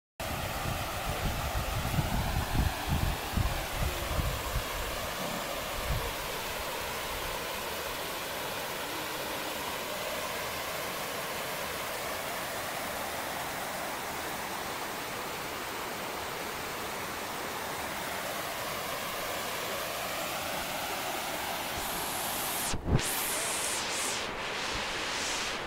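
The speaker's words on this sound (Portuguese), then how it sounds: "Ainda a cachoeira." A waterfall roars as a steady, broadband rush of falling water, continuous and loud for the whole stretch, with a brief handling bump near the end.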